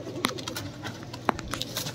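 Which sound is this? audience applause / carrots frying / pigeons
pigeons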